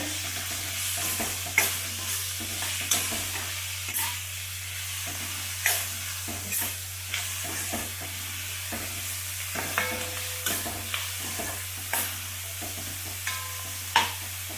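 Onions and vegetables frying with salt for veg fried rice make a steady, close sizzle, punctuated by frequent rhythmic clacks and scrapes of a spatula stirring in the pan.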